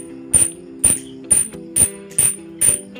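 A Maxzone Aggressor bicycle hub ratchets close up in six evenly spaced bursts of loud, buzzy freewheel clicking, each about half a second apart, with no voices.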